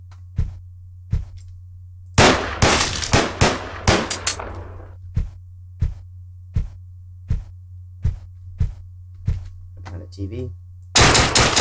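Gunfire in the video game Deadbolt: a dense burst of rapid shots, then single loud shots at a steady, evenly spaced rhythm over a constant low hum, with a brief voice.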